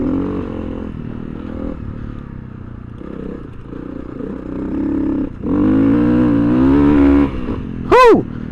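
A big-bore Honda CRF300L dual sport motorcycle pulls hard in third gear, its engine droning loud and close, then rising in a steady acceleration before a brief sharp whine near the end.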